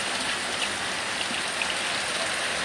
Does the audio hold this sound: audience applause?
no